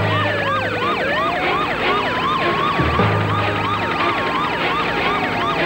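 Wailing police car siren in a film, loud and close, sweeping up and down in rapid repeated cycles with a lower steady tone underneath and a brief dip near the middle.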